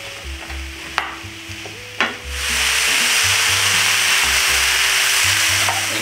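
Mushrooms hit hot olive oil in a pan on medium heat. After a couple of soft knocks, a loud, steady sizzle bursts in and holds, close and continuous, with a faint low hum underneath.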